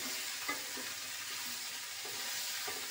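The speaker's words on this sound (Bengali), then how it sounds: "দিয়ে আবারও কিছু সময় মশলার সাথে সবজিটা কষিয়ে নেব।" Mixed vegetables sautéed with cumin paste and spices in a pan over lowered heat, giving a steady, close sizzle with soft stirring scrapes and no talking.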